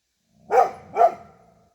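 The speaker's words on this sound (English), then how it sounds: "Never know with this guy what he's barking at." A dog out in the bush near an old 1940s cabin gives two sharp barks in quick succession, close and clear against a quiet background.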